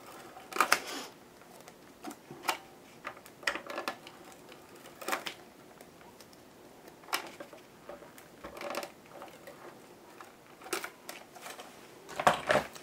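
A tape runner pressing tape onto a scrapbooking page protector gives a string of quiet clicks and short sticky bursts, spaced irregularly, close and fairly faint.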